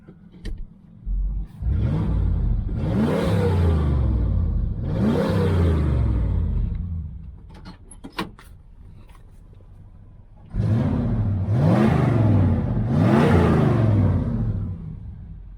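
A 1977 Chevy Malibu Classic V8 engine revving up in strong bursts with a deep rumble, easing back to a low idle between them, heard close up without any talk.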